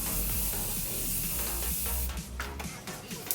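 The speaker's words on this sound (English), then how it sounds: "I am going to apply this Prep and Set Morphe setting spray before applying" Morphe Prep and Set setting spray misted onto a face, a dense continuous hiss lasting about two seconds before breaking off into quieter rustling.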